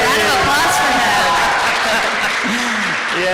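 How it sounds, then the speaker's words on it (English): An audience at the Enactus World Cup championship final claps in steady, sustained applause, with a voice talking over the clapping. "Round of applause for him."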